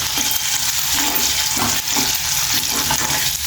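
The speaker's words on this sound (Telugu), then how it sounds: "ఆయిల్లా అల్లం పేస్ట్ పచ్చివాసన అయ్యే వరకు మంచిగా ఫ్రై చేసుకోవాలి" Ginger paste fries in oil in a pan for a cashew tomato curry, giving a steady, loud sizzle with faint stirring scrapes throughout and no talking.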